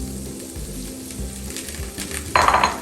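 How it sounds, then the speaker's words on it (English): Butter sizzling and frying in a pan as it is stirred, steady crackle throughout with a louder burst of sizzling near the end, no voices. "Into the butter. Stir that a little bit."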